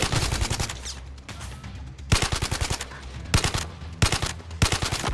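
Automatic gunfire in Zero Caliber VR, a rifle loosing several sharp, rapid bursts separated by short pauses, loud and close, with no talking.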